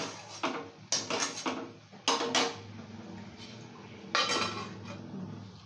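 Metal cooking pot lid lifted to check Kashmiri polau, giving several sharp clanks and clinks in quick bursts, with a faint background hum between them, close and fairly loud.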